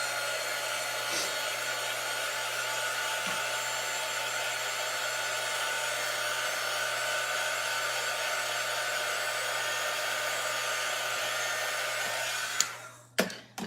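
A hair dryer blows nonstop on a birthday craft decoration, a loud, steady whooshing hum that cuts off near the end with a few clunks.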